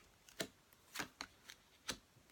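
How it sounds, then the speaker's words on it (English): Tarot cards being shuffled by hand, with soft riffling flicks and slaps in an uneven rhythm, about half a dozen quick bursts, close but faint. "Cards have been really weird when I've been shuffling for this particular set of readings."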